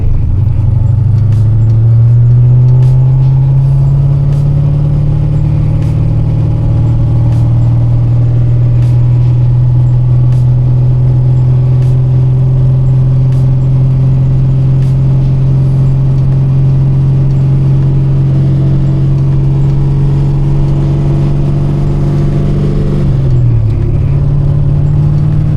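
A JDM Corvette pulls hard through third gear, its loud, close engine tone rising steadily for over twenty seconds before a sudden drop as the throttle lifts, with no talking.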